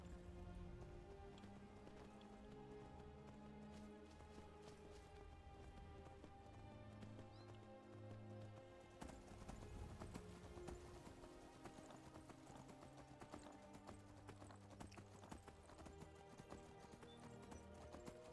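Horse hooves clip-clop steadily in Skyrim, a continuous trotting rhythm at moderate distance over game music and ambience, with no talk.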